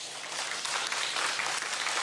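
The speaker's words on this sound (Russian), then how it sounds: "Ну, нечего аплодировать" An audience at a live political talk show applauds, a dense, steady wash of many hands clapping that swells slightly and holds for about two seconds, with no speech over it.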